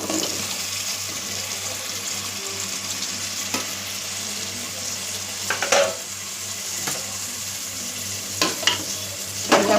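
Beans, potato, drumstick and chow chow are stirred into a sizzling kurma in a pan, giving a steady hiss with a few soft knocks and clinks from stirring.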